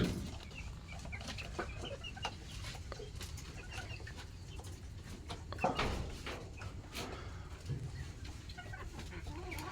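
Chickens cluck on a poultry farm near Dhaka, with pigeons also kept there. The clucks come in steady, close bursts over a busy farmyard din.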